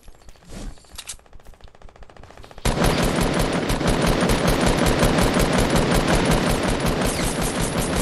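Powerful gun firing in the video game Fortnite, a few scattered shots first, then a loud sustained rapid-fire burst that runs continuously to the end.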